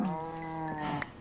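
A single drawn-out cow moo from Minecraft, tonal and nasal, sounds close and moderately loud, ending with a brief click and no speech over it.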